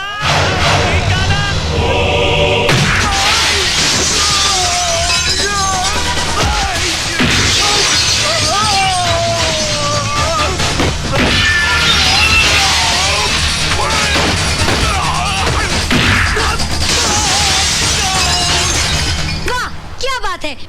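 Glass shatters and smashes during a fight scene in an action film, with crashes and thuds buried in loud, continuous dramatic music while voices shout over the mix.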